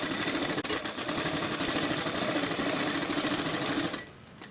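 A sewing machine stitches a saree fall in a fast, even, buzzing run of needle strokes, loud and close, which stops abruptly near the end.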